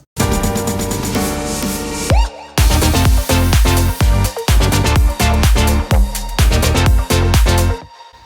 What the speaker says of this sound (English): So this piano sound is just from a plugin called True Pianos.